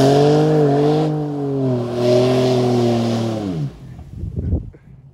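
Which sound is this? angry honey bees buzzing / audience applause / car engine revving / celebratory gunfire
car engine revving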